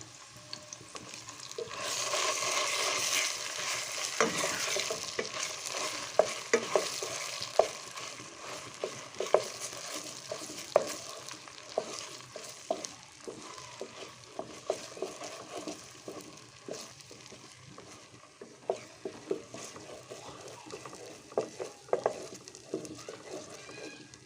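Hog plums frying with mixed spices for amra pickle: a close, continuous sizzle and crackle with frequent clicks and scrapes from stirring, getting sharper and more spattery toward the end, with no voices.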